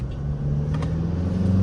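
A remapped Toyota Hilux pickup accelerates during a drag race on a straight stretch of road, its engine a steady low rumble and drone heard from close by, holding level over a short burst.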